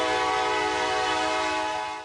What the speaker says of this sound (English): This is a 12-second horn blast from a Union Pacific train passing through Japantown at about 10 o'clock Wednesday night